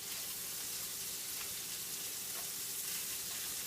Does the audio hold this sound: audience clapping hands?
no